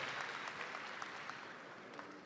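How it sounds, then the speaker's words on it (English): Steady applause from a crowd at a university commencement ceremony, many hands clapping continuously at an even level throughout. "Let's give them another round of applause."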